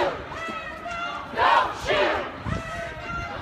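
A large street protest crowd chanting, loud rhythmic shouted slogans from many voices rising and falling in waves close around.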